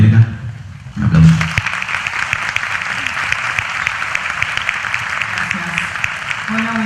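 An audience at a corporate event breaks into sustained applause after a brief spoken introduction, the clapping dense and steady, fairly loud and continuing to the end.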